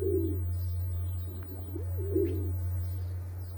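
Pigeons coo softly at a nest holding chicks and eggs, with a few low, rolling coos in the middle over a steady low hum and no talking.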